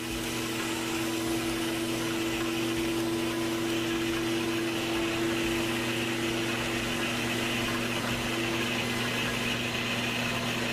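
A Sirena water-filter vacuum cleaner runs steadily while cleaning carpet, giving a constant droning whir with a low hum. The sound is even throughout, with no pauses and no voices.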